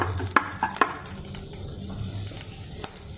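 Two slit green chillies hitting hot sunflower oil in a pan give a steady close sizzle and fry with a few sharp crackles and pops scattered through, without any voices.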